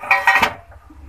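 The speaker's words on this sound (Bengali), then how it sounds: "এখন ঢাকনাটা তুলে নেব।" A lid comes off a bowl of lachha paratha dough with two quick clinking knocks of metal on dishware, then a faint trailing rattle in an otherwise quiet kitchen.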